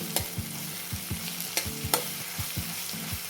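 Masala for a green pea curry sizzles and fries in a pan, with steady crackling and rhythmic stirring scrapes close up, no voices.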